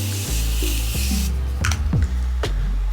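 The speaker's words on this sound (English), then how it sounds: "I'm gonna take my Morphe Continuous Misting Spray." A Morphe Continuous Misting setting spray is misted over a face in one steady, close hiss of about a second, followed by a few soft handling taps and brushes.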